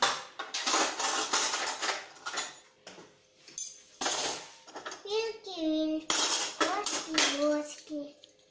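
Metal cutlery clinks and clatters as spoons and forks are sorted and dropped together, with a voice chiming in between the rattles.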